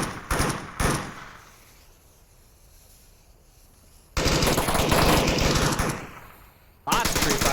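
Bursts of automatic gunfire from players pre-firing in the VR shooter game Onward, a couple of short loud volleys early, then a long sustained burst and another at the end, with quieter gaps between.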